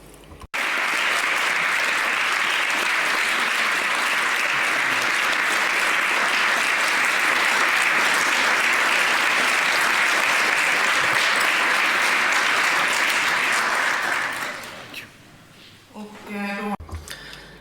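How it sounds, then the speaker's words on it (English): A large audience at a Nordic Council theme session applauds the Ukrainian delegation with loud, sustained clapping for about fourteen seconds, then fades out, with a few quieter sounds at the end. "we give the Ukrainian delegation a very warm round of applause"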